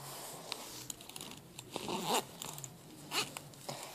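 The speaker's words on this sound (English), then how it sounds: "It just has a zipper" A zipper being drawn open on a small zebra-print pouch by Mud Pie, with a soft, close raspy zip and a few light handling rustles and clicks.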